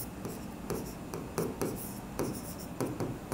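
Pen scratching across paper during a Bengali accounting lesson on journal entries, with short bursts of strokes at an irregular rhythm, close and fairly quiet, with no speech.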